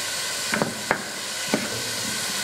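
Sliced garlic goes into diced onions frying in a pan, giving a steady hiss of sizzling with a few soft clicks and stirring taps.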